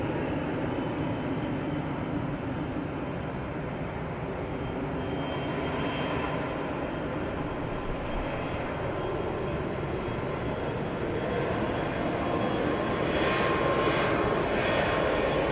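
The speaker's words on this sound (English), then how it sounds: "I can see the plane taking off right now" An airplane takes off with a steady, loud, broadband engine roar that holds for the whole stretch and swells slightly toward the end, with no talking over it.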